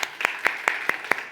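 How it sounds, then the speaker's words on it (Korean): Clapping from a small church class audience, heard as a short run of crisp, evenly spaced claps in a steady rhythm. "박수 한번 칠까요?"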